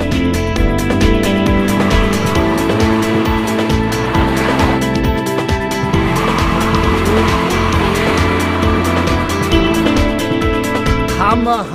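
A Mercedes-Benz, rear-wheel-drive or 4MATIC, accelerates and slides at over 100 km/h on a winter course, its engine roaring loud and continuous with tire noise under it and voices talking over it.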